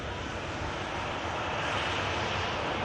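EasyJet airliner at Manchester Airport, a steady broadband engine roar with wind-like rushing, constant and fairly loud throughout with no clear rise or fall.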